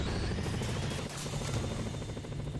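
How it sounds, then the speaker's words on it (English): Helicopter in Crackdown 2, a steady loud rotor chop throbbing throughout the gameplay with dense mechanical rumble and no talk over it. "Just bring another helicopter, I guess. Helicopter drop."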